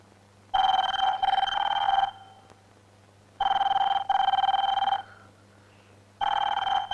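A telephone rings in loud repeated electronic bursts, three separate rings separated by pauses, heard clearly with no talking over them.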